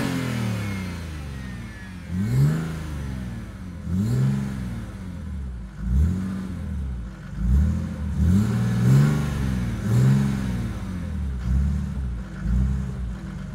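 A Mercedes W210 E300 turbodiesel with a stainless steel exhaust and twin 3.5-inch outlets revs repeatedly, about seven deep, throaty bursts rising and falling in a steady rhythm, loud and close with no talking.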